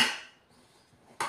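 A pressure cooker lid is lifted off after cooking boiled potatoes, giving a sharp metallic clank, a quiet pause, then a second brief metal knock close by.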